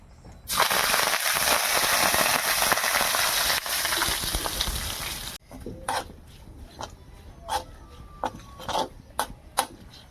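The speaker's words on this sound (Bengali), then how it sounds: "এটা আমি তেলের মধ্যে ফোড়ন দেবো" Whole spices tempered as phoron crackle loudly in hot oil for a Bengali village-style pangas and tengra fish curry, a dense sizzling burst that cuts off abruptly, followed by scattered sharp pops and clinks.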